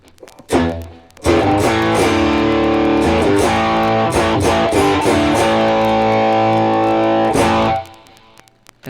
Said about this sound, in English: So this is just the distortion setting.